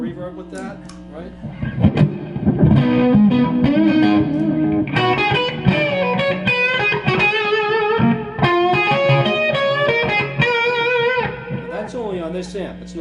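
Stratocaster electric guitar through a Gjika Gainmaster amp with delay plus a touch of reverb, ringing chords and single-note runs with echoing tails, loud and steady with faint talk at points.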